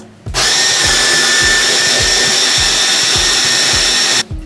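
A hand mixer drones loudly and steadily for about four seconds while blending a nut paste thinned with a splash of ordinary milk, its motor pulsing in a regular rhythm before cutting off abruptly.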